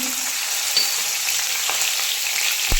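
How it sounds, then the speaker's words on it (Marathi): Green chillies hiss and crackle in hot oil for a chicken manchow soup, a continuous close sizzle with a few faint clinks and no voices. "इथे पहा तेल तापलं आहे तर ह्यामध्ये मी हिरवी मिरची"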